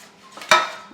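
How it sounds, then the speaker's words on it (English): Round metal cake pans knock and clatter once as they are set down, a single sharp clank rising from faint handling noise in a home kitchen. "Now we're going to bring the pans over and prepare those real quick."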